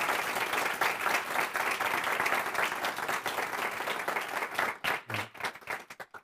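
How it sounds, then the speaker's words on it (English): Audience applause at a community college state-of-the-college event celebrating the East County Education Center, dense steady clapping from a large crowd that thins into scattered individual claps near the end. "let's give a round of applause for everybody who had a hand in helping to make the East County Education Center come to fruition"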